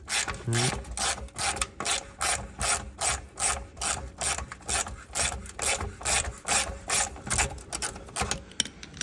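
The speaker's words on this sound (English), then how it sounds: "there's a bolt right here, over here, that you just gotta undo" A ratchet undoing a 13 mm bolt on the downpipe clamp of a 2021 Toyota Supra clicks in rapid, regular bursts, close and loud, each back-and-forth stroke repeating steadily throughout.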